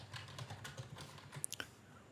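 Light, quiet typing on a computer keyboard, a few soft keystrokes ending in a quick cluster of three sharper clicks.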